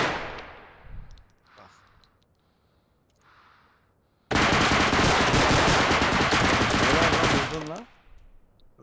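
Automatic gunfire in the video game Bodycam: a loud, sustained burst of rapid shots lasting a few seconds, following a quieter stretch of faint in-game sounds.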